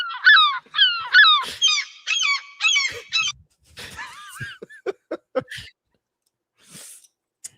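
A recorded bird call played back, a loud series of repeated honking, squawking notes in rhythmic bursts, then scattered sharp clicks and a brief warbling call toward the end.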